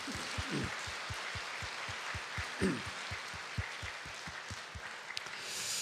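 Rhythmic clapping from a church congregation during a Sunday worship service, a steady even beat of many hands with a brief swell partway through, moderately loud and filling the room.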